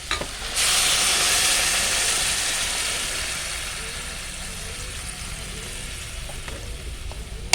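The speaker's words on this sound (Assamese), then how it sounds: "এতিয়া মই ইয়াত প্ৰয়োজন অনুসৰি উতলা গৰম পানী এড কৰিছোঁ" Hot water poured into a hot frying pan of vegetables sets off a loud burst of hissing and steam that slowly fades into a softer, steady sizzle.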